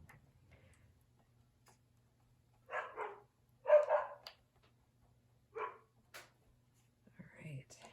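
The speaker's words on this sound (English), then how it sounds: "there goes the dogs." Dogs bark in a few short, separate bursts, three or four woofs spaced across several seconds, moderately distant in an otherwise quiet indoor room with a low electrical hum.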